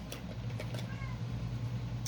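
A pet cat gives a brief, faint meow against a low steady hum, with a few soft clicks and knocks around it in a quiet room.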